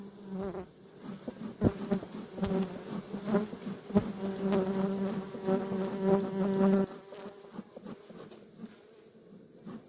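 Honey bees swarm around an open, troubled hive during an inspection, their dense, steady buzzing close and continuous throughout with no voices.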